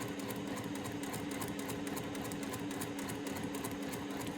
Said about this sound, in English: I'm still going to put the needle down, but we're back to normal sewing at the beginning there.